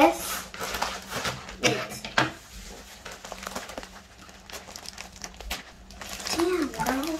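Scissors cutting open the plastic packaging of a fidget toy set, with crinkling plastic, scattered snips and rustles close up, while a person talks throughout.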